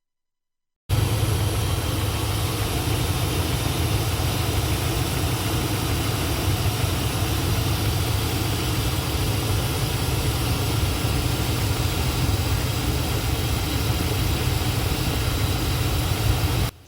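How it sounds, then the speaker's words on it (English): A Dodge Ram 1500 or 2500 idles with its A/C cooling fan running after a P0480 fan fault repair, giving a steady, even low drone that continues unchanged throughout with no talk. "watch as we turn the fan on and we will see if it starts"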